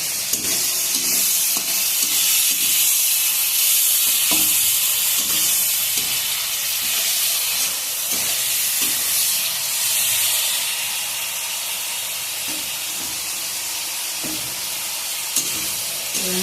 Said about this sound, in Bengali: চিংড়ি মাছগুলোকে আগে ভেজে দিচ্ছি হালকা করে।